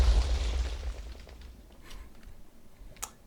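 A TNT explosion in Minecraft goes off as a loud low boom that fades over about a second and a half, followed by a couple of fainter pops.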